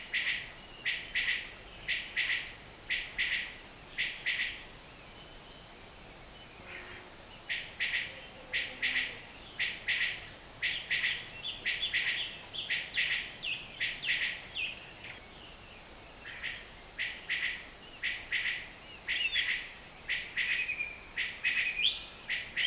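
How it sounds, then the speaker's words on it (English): A common quail calls in the wild at night on Garn Fadryn, giving repeated sharp three-note bursts. The calls come in clear, evenly spaced groups over a quiet background, with a few other faint chirps. "Now that's a quail, and that's very uncommon in the UK."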